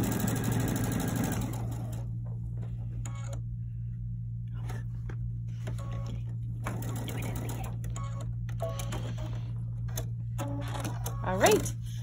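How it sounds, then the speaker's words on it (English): A sewing machine joins quilt blocks for a Kimberbell Love Notes quilt. Its low, steady motor drone runs throughout, with intermittent lighter mechanical bursts on top. "And our last two sewing onto the end here."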